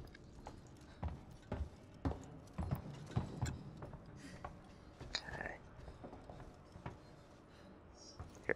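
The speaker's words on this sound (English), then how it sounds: "Hear footsteps. They're walking around, trying to find me." Footsteps walk around in Alien: Isolation, a series of dull, uneven thuds spread over several seconds at moderate distance, with a brief spoken word among them.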